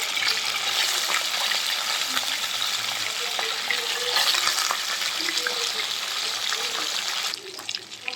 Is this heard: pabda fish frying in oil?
yes